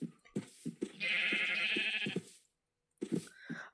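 A sheep in the video game Minecraft bleats twice, one long wavering bleat in the middle, with soft clicks and game noises around it and a short gap of silence.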